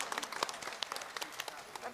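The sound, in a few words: applause for the priest at mass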